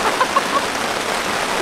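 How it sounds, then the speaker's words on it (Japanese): Rain falls steadily at a family campsite, a dense close patter that continues throughout the short stretch with no voices. "雨です 。 まだの雨です。"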